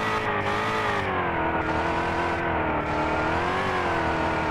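A luxury racing car in Indian Car Simulator drives at low speed with a steady, continuous engine drone. The rich, sustained tone rises and falls gently, with no break and no voices over it.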